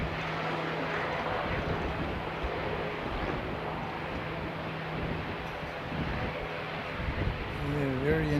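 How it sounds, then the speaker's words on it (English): A light propeller plane taking off with a student pilot at the controls, a steady distant engine drone mixed with wind noise, while people talk over it throughout. "Yeah, very interesting takeoff, that one."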